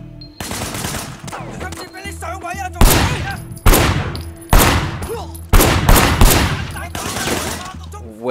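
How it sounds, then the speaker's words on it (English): Gunfire in the video game Sleeping Dogs, shots fired from a car's passenger window: loud, repeated bursts of rapid shots, several sharp volleys in a row, with some voices in the background. "Firing shots from the passenger window."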